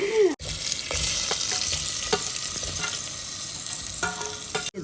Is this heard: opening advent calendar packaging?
no